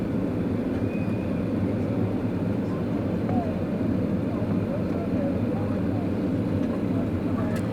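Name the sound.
Finnair Airbus A330 airliner landing at Doha Airport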